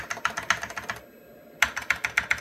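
Keys clack on an Amiga computer keyboard in a quick, even run of sharp taps. A short pause breaks it before the typing resumes, close and distinct with no voices.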